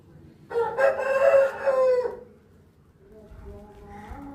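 A near Aseel rooster in full condition crows once, loud and clear for about a second and a half, followed by quieter bird calls and low background noise.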